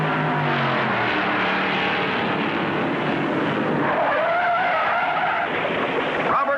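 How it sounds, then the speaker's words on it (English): A race car skids out of control during the 1957 Southern 500 stock car race, with loud tire screeching over a roaring engine and dense crowd noise throughout. "A car out of control, and Roberts smashes into him."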